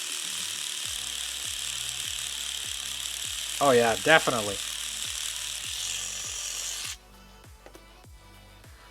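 A steady buzzing hum of a small reciprocating sander sanding a plastic part, with a rhythmic ticking pulse, briefly under a short spoken remark, then switching off near the end.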